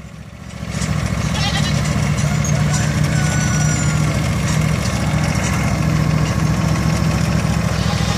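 A riding lawn mower engine idles loud and close, a steady throbbing drone that starts right away and holds throughout, with a goat on board and voices and bleat-like sounds mixed in over it.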